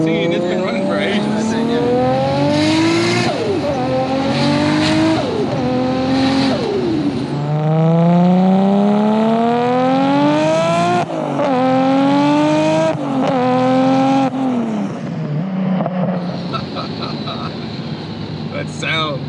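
A 750HP Nissan R32 GTR with a 2.6L RB26 engine accelerates hard on Australian streets, recorded from inside the car, its loud engine rising in pitch through several gear changes while the occupants talk over it.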